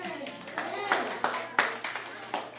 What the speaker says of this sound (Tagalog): Palakpak! Dali, palakpak!